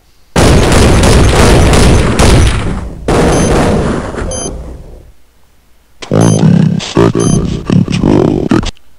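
An AK rifle fires in a video game in loud, rapid automatic bursts, with a long sustained burst, a shorter one and then a choppier cluster of shots after a brief silence. The shots are close and harsh, with almost no other sound.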